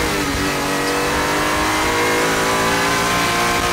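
A Honda NSX-R NA2 with its 3.2-liter V6 revs hard and close, a loud, sustained engine roar that holds steady throughout with no talking.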